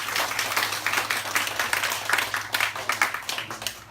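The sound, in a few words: applause welcoming new members in church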